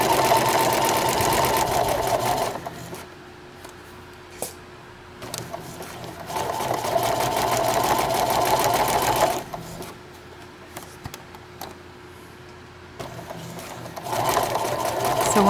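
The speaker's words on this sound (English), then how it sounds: "Go ahead and do a lock stitch on the top of this one too, because you don't want it to come unsewn." A sewing machine runs in three bursts while sewing a lock stitch on a placemat tote, each several seconds of rapid, close mechanical whirring and clatter with short quiet pauses between.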